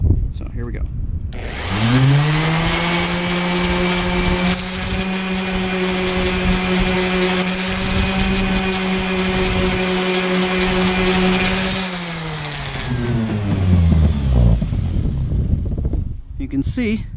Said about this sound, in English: while it's still wet, hit it with your sander, and that's going to take some material off